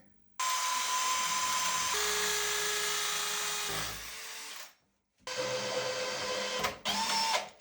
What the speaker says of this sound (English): Hammer drill.